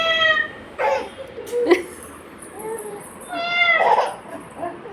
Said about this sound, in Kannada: ಹಂಗಂತೈತಾ ಮಿಯಾವ್ ಅಂತ?